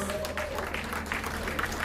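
An audience at a Windrush 75 gathering in Nottingham's Binks Yard claps warmly for the team, a steady patter of applause with voices and a low hum running underneath.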